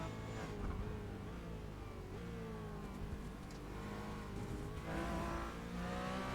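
A Porsche Cayman on the Zolder race track, its engine droning steadily from inside the cabin, pitch sliding down as it brakes and then rising again as it accelerates away.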